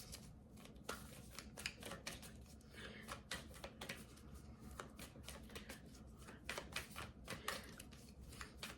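Tarot cards are shuffled by hand in quick, crisp riffles and taps that repeat over several seconds, close but faint.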